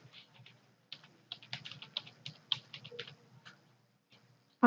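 Someone types on a computer keyboard while filling in a registration form, giving rapid, close, irregular key clicks in short runs with small pauses, then a louder click at the end.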